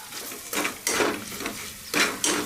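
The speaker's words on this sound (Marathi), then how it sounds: "आता आपण यामध्ये काळं वाटण घालून घेणार आहोत, ते एकजीव करून घेऊया" Black masala paste being stirred in a pan for Maharashtrian masala bhat, a few scraping, sizzling strokes in uneven bursts, fairly close and moderately loud, with no voices.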